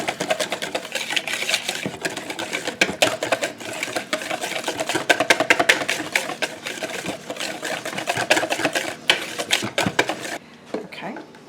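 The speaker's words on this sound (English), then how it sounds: "And we're just going to mix that batter up." Peach cobbler batter made with milk is mixed in a bowl, giving a rapid, continuous clatter of utensil against dish for about ten seconds, fairly close and steady, before stopping into quieter room sound.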